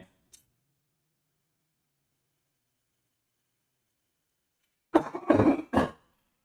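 A short burst of coughing from a sick person, a few harsh coughs close by after long silence, with a tiny click at the start.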